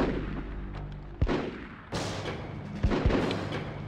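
Gunfire and heavy explosive booms in the PS2 game Full Spectrum Warrior: several sharp, loud blasts land over a constant low battlefield rumble, with the strongest hits about two seconds apart and a close pair near the end.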